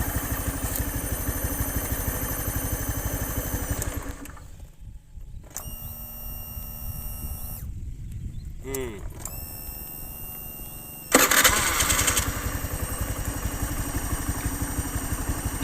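A Honda fuel-injected motorcycle engine idles with a steady mechanical clatter, cutting out briefly and restarting several times midway, with speech heard over the running engine.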